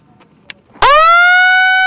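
Siren sound effect closing a broadcast: a sudden loud, sustained electronic wail with a rising start that holds steady to the end, following a moment of quiet.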